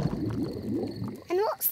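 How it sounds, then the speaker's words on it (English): Cartoon tummy rumble from a pig father, a bubbly gurgling squelch of low wobbling tones that ends in a few rising whoop-like swoops, heard close and alone. "My tummy rumbling is one of the best sounds of nature."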